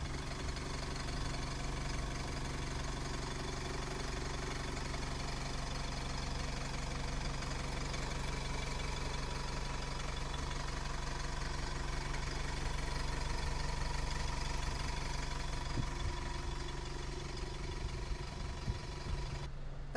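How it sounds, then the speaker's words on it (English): ADL E200 single-deck bus with its diesel engine idling, a steady, even rumble with light knocking, heard up close and alone for about twenty seconds. "So with the engine now running,"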